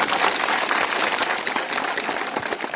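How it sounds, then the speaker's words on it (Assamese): Crowd at an outdoor political rally claps steadily, a thick wash of many hands at moderate loudness that holds without pause from start to finish. "এইফালে বহুত হাত চাপৰি দিছে"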